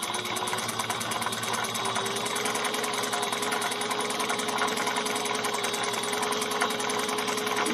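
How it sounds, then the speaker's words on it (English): A sewing machine stitches a fabric bag, running continuously at a fast, even buzzing whir with a rapid mechanical needle rhythm, close and steady throughout without speech. "And we're going to sew."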